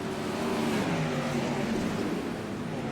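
Dirt track race cars roar steadily around Cedar Lake Speedway, a dense continuous engine drone with no breaks, fairly loud and close throughout.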